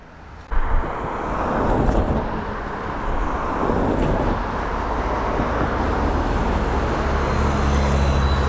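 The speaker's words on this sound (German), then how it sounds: "Ich kann da vielleicht mal zeigen, wenn da ein Auto durchfährt, was das rappelt." A car drives through potholes on the B54 road, a loud passing roadway rumble that starts with a sudden thump and continues as a steady traffic roar, with no talking.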